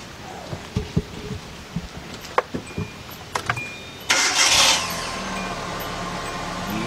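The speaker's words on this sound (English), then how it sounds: "let's get our keys and start this car up" Hyundai Accent or Kia Rio car engine cranking and catching after a starter replacement, with a few clicks and knocks first, then a sudden loud start burst settling into a steady close idle.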